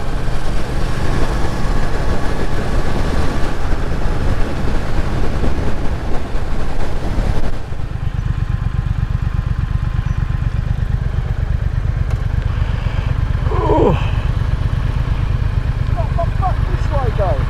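A Triumph Thruxton R motorcycle riding along a road drones steadily and loudly, its engine note dropping and settling partway through, with wind buffeting the rider.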